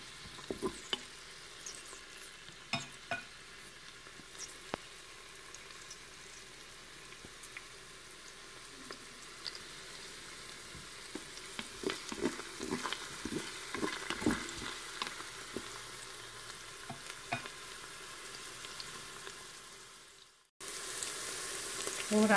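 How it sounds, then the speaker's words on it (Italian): Chopped shallot sautéing in a Cookeo multicooker for a black rice and salmon dish, a quiet continuous sizzle with scattered crackles and pops throughout, a brief drop near the end, no talking. "Scalogno inserito, facciamolo rosolare."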